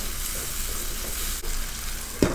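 Chayote with a spoonful of ketchup stirred in a hot pan gives a steady, close sizzle with soft stirring scrapes, ending in one sharp clack of the utensil.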